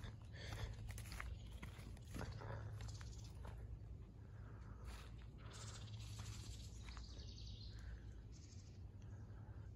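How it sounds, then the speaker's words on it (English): Birds call along a forest trail during a walk, small scattered chirps and tweets heard faintly over steady outdoor background noise, with no talking. "Birds. Interesting. Never heard that."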